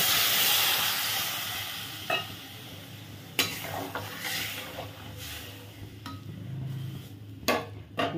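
Water is poured into a hot pan of fish curry, giving a hissing sizzle that settles into a softer simmer, with scattered clinks and stirring knocks.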